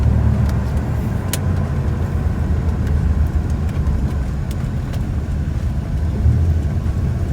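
A fiberglass Corvette with polyurethane bumpers cruising on the road, its steady low engine and tire rumble continuous and fairly loud throughout, with no talking.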